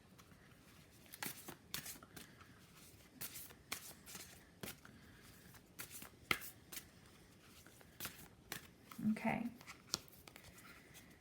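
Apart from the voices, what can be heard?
shuffling and drawing Moonology Manifestation Oracle cards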